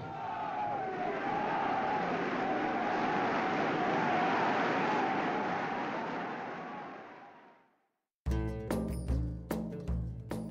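An archival crowd in Constantine awaiting General de Gaulle gives off a steady, loud roar of massed voices and cheering that swells, holds for several seconds, then fades out, and music follows.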